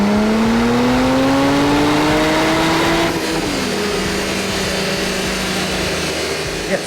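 A Porsche GT2 RS fitted with big turbos screams on a rolling road, its engine note rising steadily under load before cutting back and settling into a loud, rough, sustained roar.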